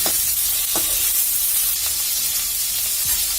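Fish pieces fry loudly in hot oil, a dense continuous sizzle and hiss close by with occasional spatters and brief stirring knocks, no voices.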